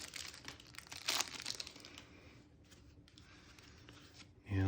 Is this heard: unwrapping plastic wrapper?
yes